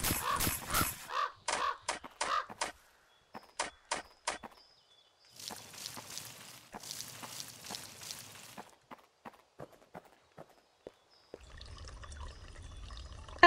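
Crow cawing in a series of loud, sharp calls in short bursts, with a stretch of broadband noise partway through and a steady hiss at the end.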